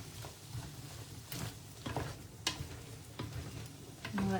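Ingredients sauté in a skillet for a Mediterranean garlic herb chicken dish, giving a soft, steady sizzle with a few light stirring clicks and taps close by, and no talking.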